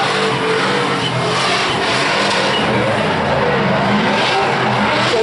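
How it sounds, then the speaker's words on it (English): A Japanese import drift car with a V8 swapped in races on a track. Its engine roars loudly and continuously over broadband tire and crowd noise, with no talking. "Matt Van Kirk out on track right now, and let's just watch, let's just see what these guys do."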